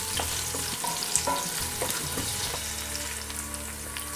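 Onions fry in a pan for a Madras style crab curry, a continuous close sizzle with stirring clinks and scrapes, the crackle easing slightly after the first couple of seconds.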